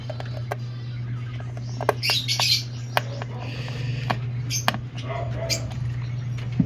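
Opaline lovebirds chirping in a cage, scattered short tweets and squeaks at close range over a steady low hum, with a few louder calls standing out.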